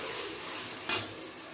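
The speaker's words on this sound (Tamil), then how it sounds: "இதை நல்லா பிரட்டி விடணும், எல்லாம் நல்லா கலந்து வரணும்." Country chicken pieces being stirred in a pot for Tamil chicken biryani, a soft continuous sizzle with a brief metallic scrape of the spoon near the end, close and without talking.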